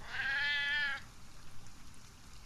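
A cat meows once in the survival video game Sheltered, a single drawn-out, fairly loud meow lasting about a second, followed by quiet background hiss and no voices.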